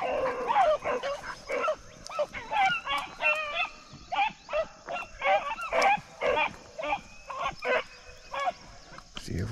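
Seven-month-old hound puppies bark and holler excitedly while running a rabbit track outdoors, a rapid series of loud yelps and bays overlapping one another, with a faint human voice in the background.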